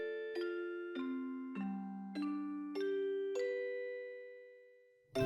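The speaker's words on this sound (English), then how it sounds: "Pleasant little chimes in this town." Town chimes from the Final Fantasy VIII video game ring out in a series of six clean bell tones, each decaying before the next, pleasant and evenly paced, ending with a sudden louder sound.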